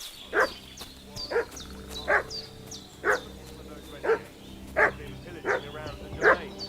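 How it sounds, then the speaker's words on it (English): A dog barks repeatedly in the medieval video game Kingdom Come: Deliverance II, about eight evenly spaced loud barks at mid distance over a steady ambient game background. "What's that dog making such a fuss about?"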